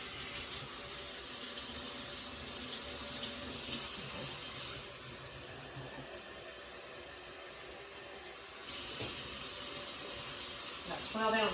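Tap water runs steadily into a sink, a continuous hissing splash that shifts slightly in tone partway through.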